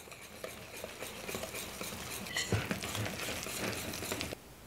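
Gluten-free pumpkin crumb cake batter is mixed with milk and flour in a bowl, giving a close, steady scraping and stirring patter with light clinks of the utensil.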